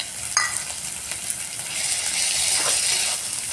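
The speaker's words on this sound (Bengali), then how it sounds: "পেঁয়াজটা আমার বাদামি রঙের ভাজা হয়ে গেছে। এবার এর মধ্যে আমি দেব আদা" Browned onion frying in oil with ginger-garlic paste just added, a steady bright sizzle that builds in intensity, with a brief clink of utensil near the start.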